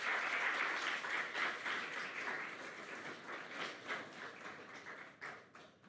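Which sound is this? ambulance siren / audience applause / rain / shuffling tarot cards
audience applause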